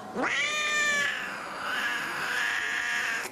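A rare Ocicat, brought from Finland, lets out one long, drawn-out meow close to the listener, rising sharply at the start and wavering through a sustained, slightly strained tone before cutting off.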